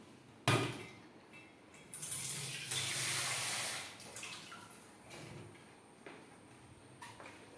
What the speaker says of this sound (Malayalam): സ്വല്പം വെള്ളം കൂടെ അങ്ങോട്ട് ചേർക്കുകയാണ്.